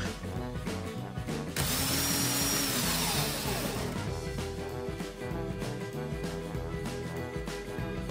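A power drill runs in reverse close and loud while winding a clapton vape coil, its whine surging for a couple of seconds before settling into a steady rattling drone, with no talking.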